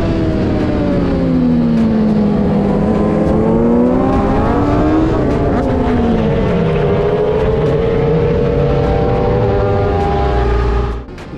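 Loud engines of several race vehicles on a race track roar past continuously, their pitch sweeping up and down as they accelerate and shift, close to the listener and without any talk.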